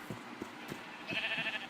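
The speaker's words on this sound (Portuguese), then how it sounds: "vou levar mais uma ovelha" Sheep bleating in the Minecraft video game, a brief higher-pitched bleat near the end following a few soft thuds, moderately loud with no talk over it.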